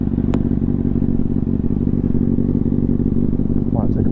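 A motorcycle engine idling in the middle of a road, a steady low throbbing rumble that runs unbroken throughout, close and fairly loud, with a brief click near the start.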